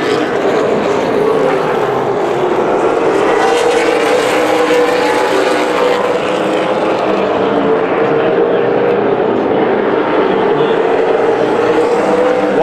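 Super Late Model race cars roar around the Las Vegas Bullring oval during a heat race, a loud continuous engine drone with a commentator talking over it.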